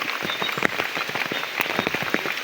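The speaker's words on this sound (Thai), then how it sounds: "ฝนตกบ่หยุด" Heavy rain falls during a flash flood with water coming down from the hills above, a dense, steady patter of drops striking surfaces throughout, with no voices.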